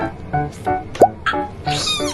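A black cat meows several times, nearby and fairly loud, with short tonal cries spaced through the moment amid some room noise and a brief sharp squeak.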